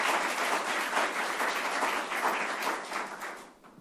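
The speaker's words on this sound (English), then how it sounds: "let's do another round of applause for my amazing mother." A round of applause from an audience at a speech, steady dense clapping throughout that thins slightly at the very end, with no talking over it.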